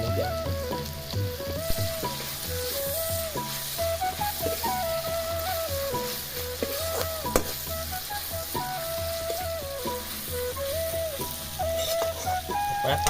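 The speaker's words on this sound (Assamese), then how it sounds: "লৰোৱাৰ পিছত মাংস এটা আৱাজ আহে ফুটুক ফুটুককৈ" Pieces of local chicken meat sizzle steadily in a hot pan while being fried and stirred, a constant crackling hiss with occasional scraping, fairly faint and with no talking.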